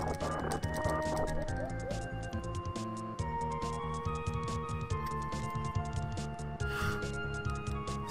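A horse gallops in a video game: a steady clip-clop of hooves with a whinny, set in a dense mix of game music and effects.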